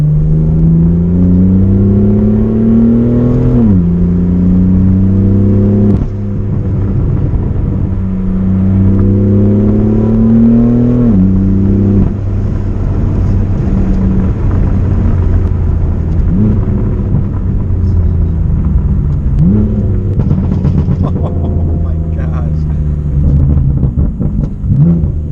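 A BMW M4 with a small-displacement twin-turbo inline six and an aftermarket exhaust, loud and close, revving repeatedly through rising gear pulls with a deep rumbling drone and sharp drops between shifts.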